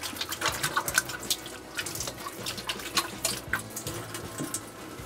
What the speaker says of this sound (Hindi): हाथ जब तक मैं धो लूँ